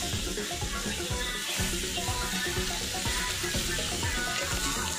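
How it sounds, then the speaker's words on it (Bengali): Small fish frying in oil in a pan in a home kitchen, a continuous crackling sizzle with bursts of spattering, steady and close, with no voices. "এই দেখো মা এখন মাছ ভাজছে"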